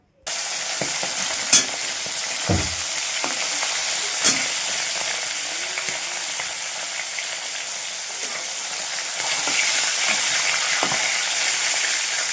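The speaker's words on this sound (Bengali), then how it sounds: "মাছটা ভাজা হতে থাকুক" Fish fries in hot oil with a loud, continuous sizzle, broken by a few clinks and knocks of a utensil against the pan.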